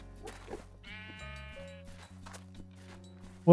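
A Minecraft sheep bleat rings out clearly over soft background music, followed by a short loud burst at the end.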